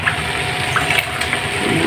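Water gushes into a pot of laing, the Filipino taro-leaf dish, as a steady, close pouring rush with small splashy bursts, alone without talk.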